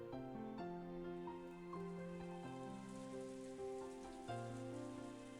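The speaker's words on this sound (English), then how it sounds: "As Angie slept, she was wrapped up in the soft sound of the rain" Soft, steady rain patters throughout a scene in the visual novel Umineko When They Cry, sitting low beneath a sustained musical backing of held notes.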